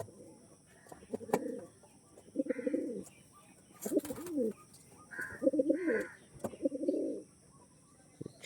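Andhra, Arshad and Kalanka breed pigeons coo close by in a series of soft, throaty bursts, with a few brief chirps and clicks between them.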